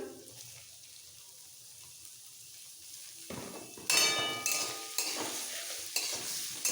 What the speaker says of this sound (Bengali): এইভাবে গার্লিক অয়েলটা বানিয়ে এর মধ্যে সাথে সাথে দিয়ে দিচ্ছি একটা পেঁয়াজ কুচনো ক্যাপসিকাম